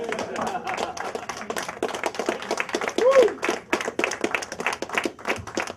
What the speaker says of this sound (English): Let's give Dr. Wesley Muhammad a round of applause.